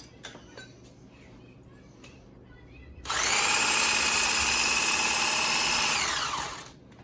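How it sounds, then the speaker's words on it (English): An immersion blender fitted with a whisk attachment whips corned beef gravy in a home kitchen. A loud, steady electric whir starts abruptly, holds for about three and a half seconds and then winds down, after quiet kitchen ambience. "I'm going to use my immersion blender with the whisk attachment"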